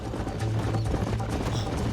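Hooves of a black stallion galloping in the Red Dead Redemption video game, a steady, dense drumming that runs the whole time amid other game noise.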